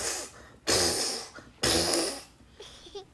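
A voice does comic snoring imitations for a children's read-aloud of Grumpy Monkey Up All Night, two long rasping snores followed by a shorter snort, close and loud.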